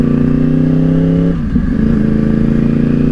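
A 2012 Yamaha R1 sportbike engine runs loud and close, holding a steady high idle with a brief dip and rev change midway before settling back to a smooth, even tone.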